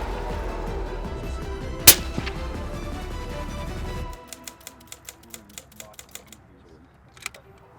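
A sharp, loud shot fired through a suppressor during a suppressor test, a single cracking report rising out of steady background noise, with smaller clicks following and a fainter pop near the end.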